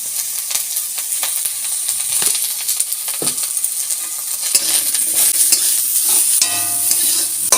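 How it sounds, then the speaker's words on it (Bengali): Steady sizzling of eggplant and pumpkin frying in oil, with intermittent scraping and stirring clicks from a utensil throughout. "বেগুন আর কুমড়োটা এখন একটু ভেজে নেবে"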